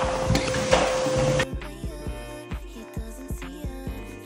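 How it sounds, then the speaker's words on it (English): A loud vacuum whine cuts off, followed by a rapid series of light hollow clacks and knocks as ping pong balls rattle through the vacuum tube. "we get this vacuum"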